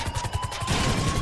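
In GTA 5, a helicopter is rammed and blown up at a military base, giving a loud, continuous burst of crashing, gunfire-like blasts that swells into a denser roar partway through.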